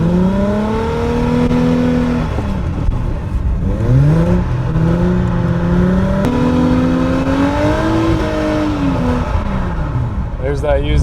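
A car engine revs hard while drifting on ice, rising and falling through repeated throttle blips, close and loud for the whole stretch, with no one talking.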